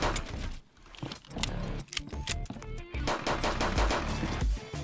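Rapid gunfire in the sci-fi shooter Shell Runner, with dense bursts of automatic shots, dips and restarts between volleys, loud and close, with no voices over it.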